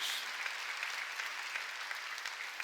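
Sustained applause from a church congregation at a Sunday worship service, steady dense clapping filling the room for the whole stretch with no voices over it.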